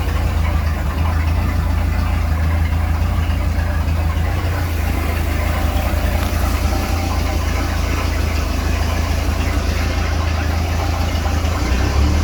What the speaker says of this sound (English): actually comes back to idle now